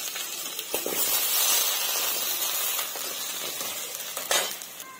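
A potato fries in a pan with oil, making a steady, close, dense sizzle and hiss with occasional stirring scrapes and a brief louder burst near the end, with no talking.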